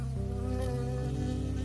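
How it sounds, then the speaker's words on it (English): A bee buzzes in a PS4 video game, a steady droning hum that fills the whole short moment at an even, moderate level with no speech over it. "I got stung by a bee."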